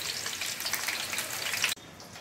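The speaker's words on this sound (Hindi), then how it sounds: "जब तक हमारा आलू धीमी आंच में फ्राई हो रहा है" Potatoes fry on low heat, a dense, bright crackling sizzle that carries steadily and then drops abruptly to a quieter hiss near the end.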